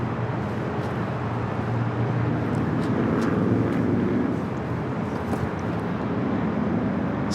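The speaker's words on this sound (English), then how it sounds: "This flight heading to Mexico City in the 737 at MAX 8" Aeromexico Boeing 737 MAX 8 airliner taxiing at Los Angeles airport, a loud steady jet engine roar with broadband rumble that holds throughout.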